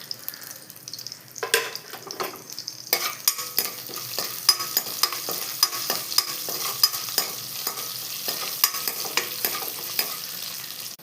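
Whole fennel seeds, cinnamon, cloves and cardamom fry in a pan, a steady hiss broken by sharp, regular scraping taps of a spoon stirring, close and fairly loud throughout.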